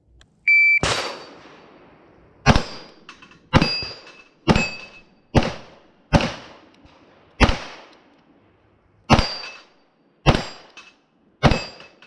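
Glock 19 pistol shots in a timed shooting drill, about ten sharp, loud reports fired singly in an uneven series, each ringing briefly before the next.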